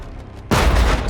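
Rocket artillery fire from HIMARS and BM-21 Grad launchers, a quiet rumble suddenly broken by a loud close burst of blast and roar that fills the rest of the short moment.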